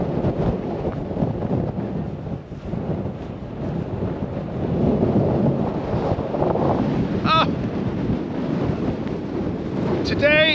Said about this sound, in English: let's go and test out the wind